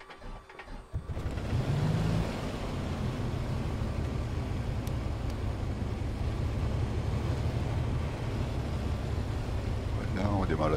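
A Piper Comanche 250 light aircraft engine starts after a brief quiet moment and settles into a loud, steady, droning idle heard close up from inside the cockpit.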